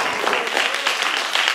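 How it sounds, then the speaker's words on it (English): An audience at a high school dry grad event gives a short burst of loud, close applause for volunteers on stage, with a few whoops rising above the dense clapping. "Huge round of applause for our volunteers up here."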